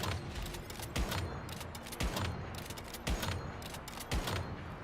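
Sniper rifle shots in the video game Once Human, four heavy sharp cracks spaced about a second apart, each with a short mechanical rattle between them, fairly quiet overall.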